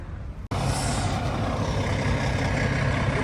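A small bus in Vietnam lets out a sudden, loud air-brake hiss after a brief quiet moment, followed by a sustained rushing engine and road noise.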